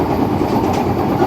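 Steady rumble and rattle of West Bengal's first AC local electric train, an EMU on the Sealdah to Ranaghat line passing a rain-wet station, running loud and continuous with clickety-clack wheel noise throughout.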